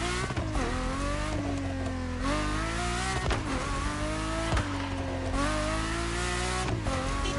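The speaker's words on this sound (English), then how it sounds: "I'll see how fast I can get this car to go" A car in The Crew Motorfest racing game revving hard through repeated gear changes, its engine pitch climbing and dropping in a loud, close, continuous whine with no talk.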